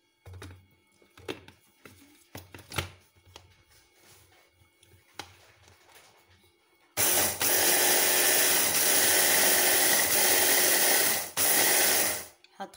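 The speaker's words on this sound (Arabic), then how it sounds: "نبدأ في مرحلة نطحن السمسم" A blender grinding sesame seeds starts abruptly after some quiet handling clicks, then runs as a loud, dense, steady whir close by for about five seconds before cutting off.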